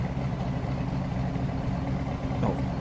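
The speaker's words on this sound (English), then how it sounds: "when you're in the car you can hear the exhaust" Holden V8 race car exhaust in Grid Autosport heard from the cockpit, a steady low rumbling drone that holds even and loud throughout with no talk.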